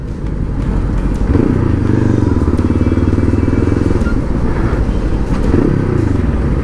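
Motorcycle engine running steadily during a short ride, a loud, continuous low rumble with rising and falling revs and a clattering exhaust, close and unbroken throughout.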